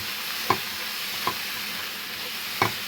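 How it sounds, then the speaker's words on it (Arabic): Onions fry in a pan with leftover chicken drippings, a steady loud sizzle broken by three distinct scraping stirs of the spoon at irregular intervals, with no talking. "ونضيف البصل ونحمس البصل إلى أن يبدأ."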